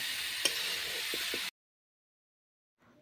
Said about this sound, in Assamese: মছলাখিনিৰ সৈতে ভালকৈ কঁঠালৰ মুচিখিনি মিলাই ল'ম।